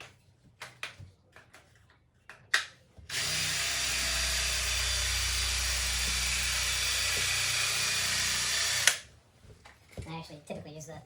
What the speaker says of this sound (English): And then I do the same with the nylon finisher.